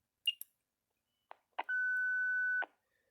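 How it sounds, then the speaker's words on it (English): Beeps from a Motorola radio confirming a key passed from a T3011DX SecureNet DES/DES-XL keyloader: a couple of short chirps and clicks, then a clear sustained tone lasting about a second, quiet and close, with no talk. "A little beep will come out of the radio"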